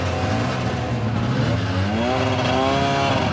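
Several snow bike engines running on a snowy slope at Gulmarg, a steady loud droning roar with rising, revving engine tones building toward the end, no talk.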